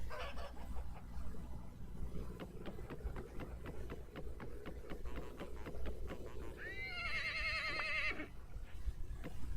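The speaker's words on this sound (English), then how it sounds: "let me try to circle around these chickens and get them from behind" Chickens cluck in a pen in the game Vintage Story, with a fast run of light rhythmic clicking and a higher, wavering call near the end, all under a low steady background.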